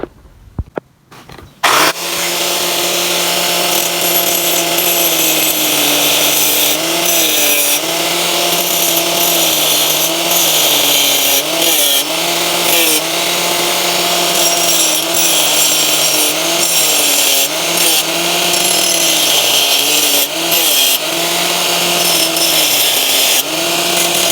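A power tool cuts into a Honda PCX exhaust muffler with a loud, continuous, close-up grinding whine that starts abruptly and holds for over twenty seconds, its pitch wavering as the blade bites into the metal.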